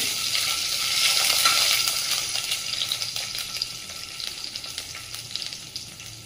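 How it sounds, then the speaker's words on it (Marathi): Mustard seeds, cumin and a piece of green chilli sizzle and crackle in hot oil while cooking veg soybean keema, a steady loud frying hiss with scattered pops throughout, easing slightly toward the end, no voices. "तेल तापलंय तर त्यामध्ये टाकून घेऊया पाव चमचा मोहरी, चमचा जिरे, 1 हिरव्या मिरचीचा तुकडा"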